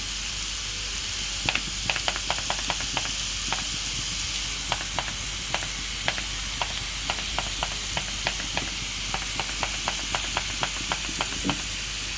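Peppers sizzle steadily in a hot pan for a roqaq tray filling with minced meat, a constant hiss punctuated by sharp crackles and pops while being stirred, close and with no talking.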